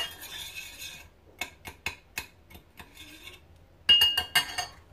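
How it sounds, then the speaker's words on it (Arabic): A metal spoon stirs a spice mixture of black pepper and salt for chicken mandi, giving a string of quick, close clinks and scrapes against a bowl, some bursts louder than others. "ونقلب الخلطه دي كويس"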